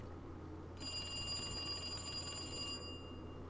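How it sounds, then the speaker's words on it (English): An old-style telephone in Resident Evil 2 Remake rings with one sustained metallic bell trill lasting about two seconds, clear and fairly near over a low background hum. "Oh, it's the phone."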